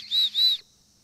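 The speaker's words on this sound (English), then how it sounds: "Well, the whistle works good." A VSSL survival kit whistle blown in two short, shrill blasts close by, with a brief gap between them, then silence.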